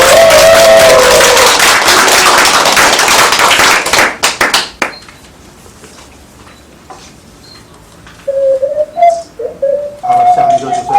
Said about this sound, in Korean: 바람꽃 분들을 박수로 환영해 주십시오.